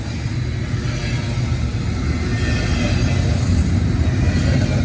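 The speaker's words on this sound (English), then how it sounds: "Currently, we are watching CSX IO25 with mid-train PPU passing." A CSX freight train with mid-train helper locomotives rolls past a railway crossing, giving a loud, continuous rumble and clatter of wheels on rails that holds steady and close throughout.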